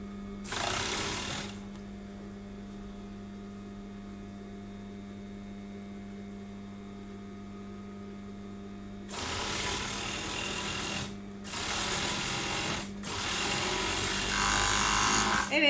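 An overlock sewing machine stitching a sweater runs in short bursts of fast, buzzing whirring: one burst at the start, then after a quiet stretch with a low electrical hum, several longer runs close together near the end.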